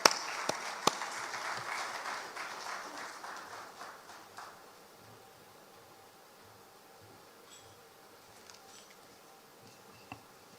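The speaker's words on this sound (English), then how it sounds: "Please help me with a big round of applause" Applause from a conference audience greeting a speaker at a formal launch event in Ghana, fairly faint and spread out, tapering off after about four seconds into quiet room tone with a few stray claps.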